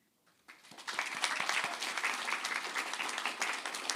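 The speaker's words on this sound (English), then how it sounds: "a round of applause to yourselves and to the ones that carried us here today" A graduation ceremony audience in Liverpool bursts into applause after a quiet start, the dense clapping swelling quickly and holding steady as a broad, sustained roar of many hands.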